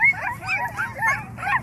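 Children imitate puppies barking during a kids' football drill, a run of about five yippy, high-pitched barks and whines, close and fairly loud, in short bursts with no other talk.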